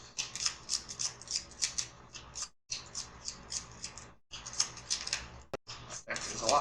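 Playing cards being shuffled repeatedly during a tabletop deck-building card game, a series of crisp riffling bursts with brief pauses between them, close and moderately loud.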